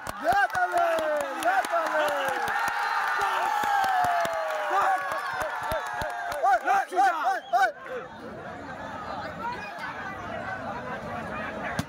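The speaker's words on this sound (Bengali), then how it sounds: "জোরে জোরে জোরে হাততালি দে" Spectators clap by hand at a kusti wrestling bout, sharp claps scattered and then bunched in quick rhythmic bursts over a crowd's loud, continuous shouting and chatter.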